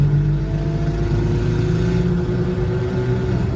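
A car engine runs steadily with a slight exhaust leak, a loud close droning rumble with a constant low tone and no talk.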